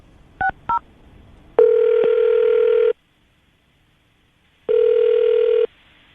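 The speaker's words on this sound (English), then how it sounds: "I'm going to dial the number now, see if we can get her on the phone" A telephone line gives two quick dialing beeps, then two long steady ringback tones separated by a pause, clear and close with no talking.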